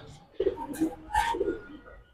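Pigeons coo close by in a few short, soft, throaty bursts, with a brief pause between calls.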